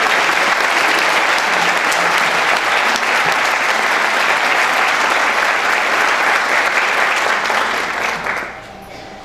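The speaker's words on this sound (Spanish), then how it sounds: "Ahora sí les brindamos un caluroso aplauso" Loud, sustained audience applause at a youth-focused conference session, a dense wash of clapping holding steady for about eight seconds before quickly tapering off at the end.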